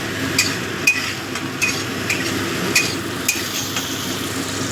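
Eggplant fries in a pan with a steady soft sizzle, punctuated by several sharp metallic taps and scrapes of a utensil stirring against the pan, close and fairly loud.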